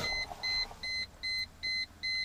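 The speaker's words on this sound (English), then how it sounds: "Wait for the dinging to end." A vehicle's chime dings after a NoKeyGo switch is turned on, sounding six evenly spaced electronic tones in a steady repeating rhythm. The tones are clear and close, over a quiet background.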